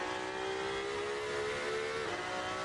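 A Porsche race car on the Nürburgring Nordschleife in a sim racing game holds a loud, steady engine whine with rich harmonic tones, dipping in pitch near the end as it shifts or lifts.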